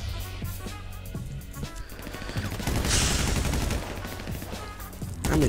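Gunfire in a GTA 5 team deathmatch match: repeated sharp shots and rapid automatic bursts, loud and dense, building into a sustained volley in the middle before scattered shots resume.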